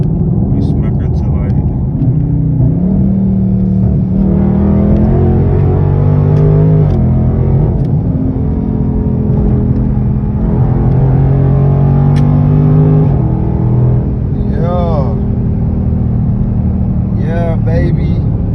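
A Dodge Charger or Challenger fitted with paddle shifters accelerates onto a highway, its engine note rising and shifting in a steady, loud rumble from inside the cabin, with someone talking over it.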